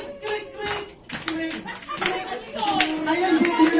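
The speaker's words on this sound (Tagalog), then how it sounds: "Ayan, sabay po tayo ng palakpak." A small group clapping hands together at a birthday gathering, uneven bursts of claps growing denser, mixed with overlapping voices and chatter.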